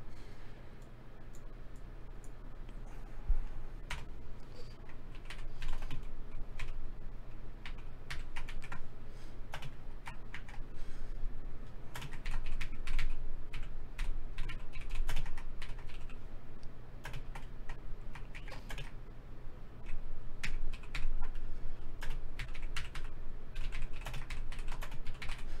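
Steady, busy clatter of keys on a computer keyboard goes on without a break for about twenty-five seconds, close up, with an irregular rhythm over a low hum.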